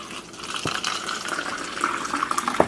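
Water pours and trickles into a cup during a Kangen water demonstration, a steady liquid splash with a few brighter drips and clinks near the end, fairly close and with no talk.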